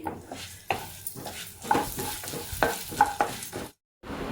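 Whole spices with coriander seeds dry-roasting in a pan for an onion-spinach curry: soft rhythmic scraping stirs over a faint crackle, close and fairly quiet, with a short silent gap near the end and no voices.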